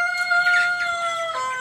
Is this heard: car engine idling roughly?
no